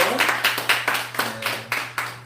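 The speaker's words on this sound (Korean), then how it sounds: "우리 박수 해드리시죠" A church congregation applauds to welcome a returning member: a short round of brisk, close hand clapping with a steady low hum underneath.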